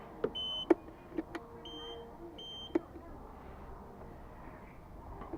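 Indicator beeps on a 72 volt electric scooter, a few short electronic chirps at irregular intervals against a quiet workshop background.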